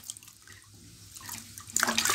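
Water running and splashing as siriguela fruit is washed outdoors, a soft steady trickle that swells into a louder, brighter gush near the end.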